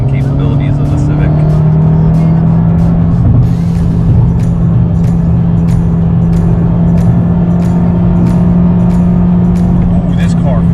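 A 2017 Honda Civic Si in sport mode hums along with a strong, steady engine drone and road noise, the tone holding fairly level throughout, with a voice talking over it at times.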